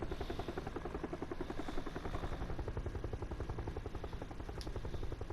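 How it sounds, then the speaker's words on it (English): A Chinook helicopter flies in PUBG on the console Paramo map. Its rotor thump pulses steadily and loudly through the whole stretch, with no talk over it. "it looks like we're going to be chasing this Chinook"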